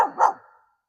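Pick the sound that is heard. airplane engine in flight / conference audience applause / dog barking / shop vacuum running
dog barking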